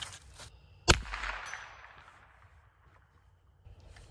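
A single sharp .22LR rifle shot from a Harrington & Richardson M12 firing a CCI Stinger 32-grain round, a loud close crack with a brief ringing tail outdoors, followed by quieter faint background sounds.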